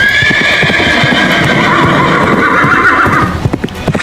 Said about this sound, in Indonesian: Terdengar gecipak kaki kuda dan teriakan amarah memecah udara.